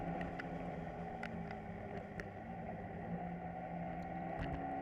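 A motorcycle ridden in the morning along roads near the lighthouse in Luna, La Union, makes a steady, continuous engine rumble mixed with wind noise, with no talking.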